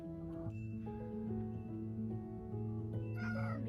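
A pet cat meows repeatedly in plaintive, drawn-out cries, close and fairly loud, with a few shorter calls toward the end and no talking.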